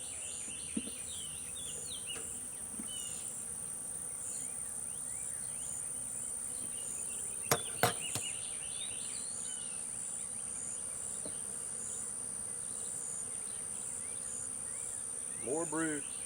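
A honeybee colony hums in an open hive during an inspection of a new colony, a steady, faint insect buzz with brief nearby clicks and a bird call.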